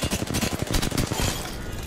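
Rapid automatic gunfire in a competitive squad-based shooter during a Twitch Rivals match, a dense rattling burst of closely spaced shots lasting under two seconds with little talk.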